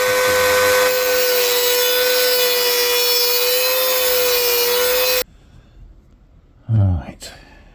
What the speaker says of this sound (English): we're going to go in with the Dremel, well, cheap version of the Dremel, and see if we can cut a slot across it